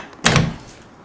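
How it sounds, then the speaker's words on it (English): A Mercedes-Benz C180 W202 car door shutting with a single solid thud close by, the slam fading quickly into quiet. "let me just shut this door"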